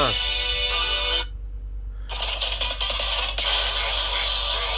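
An advertisement plays through the single top-mounted speaker of an Infinix HOT 10 Play phone, with thin, tinny voice and music. It breaks off briefly near the start, then resumes steadily at moderate loudness.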